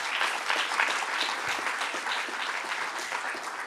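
Applause from an audience at a John Jay College of Criminal Justice event: a sustained, even patter of many hands clapping at moderate distance, steady throughout with no voices on top.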